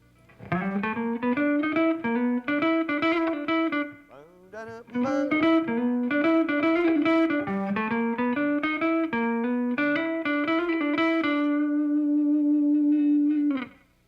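An electric guitar plays a swinging run of notes with passing tones between chords in G, a short break, then more phrases ending on a long held note.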